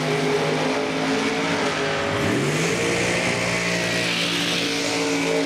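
A race car at a short-track event accelerates past, engine note climbing and sweeping as it nears then draws away, loud and continuous with other engines droning in the background.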